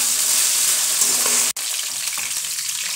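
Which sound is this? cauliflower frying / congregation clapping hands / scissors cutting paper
cauliflower frying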